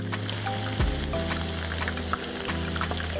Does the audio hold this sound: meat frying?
yes